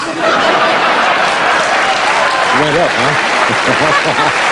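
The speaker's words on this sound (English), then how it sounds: "That's the longest milking of applause I have ever seen in my life." Loud audience applause at a comedy show fills the space, a steady roar of many hands with some laughter and chuckling mixed in.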